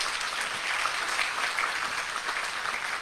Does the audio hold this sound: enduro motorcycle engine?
no